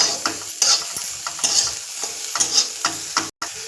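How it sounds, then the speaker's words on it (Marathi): A medium-sized onion being stir-fried until reddish for leftover fried rice, giving a bright sizzle broken by repeated close scraping stirs in an uneven rhythm, with a brief cut to silence near the end. "हा चांगला भाजून घ्यावे. लालसर होईपर्यंत भाजायचा आहे कांदा."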